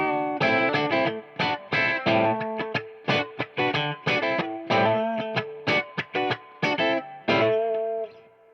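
An electric guitar played through a Son of Kong EQ/gain pedal in its treble position sounds distorted chords and notes in choppy bursts, with short gaps between the phrases.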